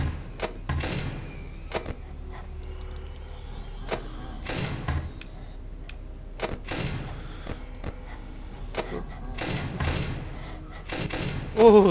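Door thuds and slams in the Ultimate Custom Night video game, a series of short, fairly close knocks spread irregularly across the clip, with a tense, murmuring game ambience underneath.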